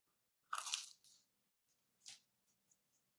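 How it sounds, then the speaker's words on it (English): A person eating crunchy food close to a microphone during a live book-reading stream: two loud crunching bites, then softer chewing and small mouth sounds, with no talking. "I hope y'all don't hear my chewing and my swallowing."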